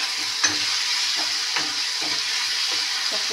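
Onion and garlic fry in a pan with a constant bright sizzle, while a spatula stirs them in several soft, evenly spaced scrapes close by.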